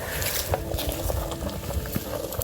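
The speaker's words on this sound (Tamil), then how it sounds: "இப்போ நல்லா கொதிச்சுட்டு இருக்கு" Dense, steady bubbling and gurgling of water at a rolling boil in a pot, close by, with a faint voice now and then in the background.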